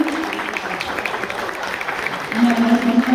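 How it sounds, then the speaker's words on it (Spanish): Audience applause at an academic event, steady clapping throughout, with a tonal hum or whistle near the end and faint voices underneath. "Un aplauso enorme"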